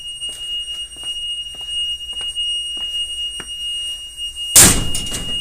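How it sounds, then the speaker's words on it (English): A tank's full-level alarm sounds a thin, steady high-pitched tone continuously over faint tapping while pumping continues, then a sudden loud rushing noise bursts in near the end. "That's the full tank alarm."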